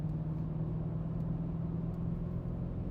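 A Mercedes-Benz C 63 AMG W204 V8 pulls in sixth gear from around 2000 RPM at highway speed, giving a steady, deep, continuous rumble with no voices.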